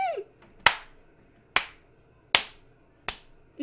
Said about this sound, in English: You can probably hear me clapping.